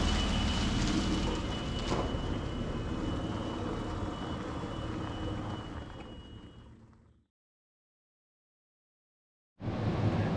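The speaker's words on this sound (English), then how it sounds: "I've got the fan going on, just trying to circulate a little bit of air in this joint." A steady broadband whoosh of an electric fan runs loudly for about seven seconds, cuts to silence, then starts again abruptly.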